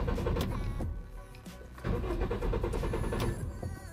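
A car engine cranks on the starter without catching after a GPS tracker has cut off the engine, a close, loud grinding whir with a short break partway through.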